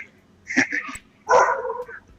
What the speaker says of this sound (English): And there's a dog barking there.